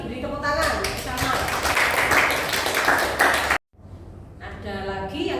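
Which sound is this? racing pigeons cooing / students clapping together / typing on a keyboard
students clapping together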